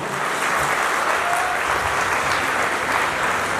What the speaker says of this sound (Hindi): मैं चाहता हूं एक बार आप जोरदार शानदार ताली बजा दीजिए अपने लिए